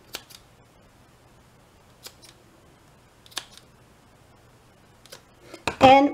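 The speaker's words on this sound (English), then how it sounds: "Going to cut this right here." Scissors snip through ribbon in a few sharp, close, isolated clicks spaced a second or two apart, ending with a louder handling rustle and a brief voice.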